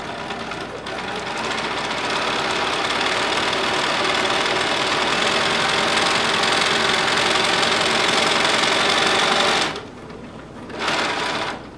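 A sewing machine stitches leather with a masking-tape covered presser foot, running steadily and loudly for most of the time, then briefly stopping and restarting before it halts.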